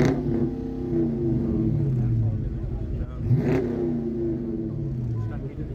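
A car engine revving hard at full throttle at a car meet event, a loud, sustained mid-range roar with rising and falling pitch sweeps, heard close, with people talking over it.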